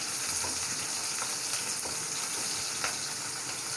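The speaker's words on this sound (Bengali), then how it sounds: "এখন দিয়ে দিব পেঁয়াজ কুচি করা আছে" Chopped onion fries in hot oil for bitter gourd cooked with pangas fish, a steady close sizzle with a few soft stirring clicks and no talk.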